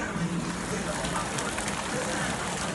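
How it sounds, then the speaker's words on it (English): Heavy rain pours down during a thunderstorm in a steady, dense hiss that never lets up, close by and loud. "there is pouring rain outside"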